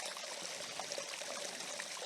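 A small waterfall on a slow-flowing stream gives a steady soft rush and trickle of water, continuous and even throughout, fairly faint and with no voices.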